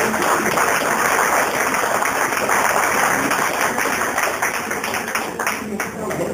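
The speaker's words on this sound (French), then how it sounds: "Applaudissez-le." Audience at a tourism-industry networking drink in Anhée applauding, a dense, sustained wash of clapping that holds steady, then thins slightly toward the end.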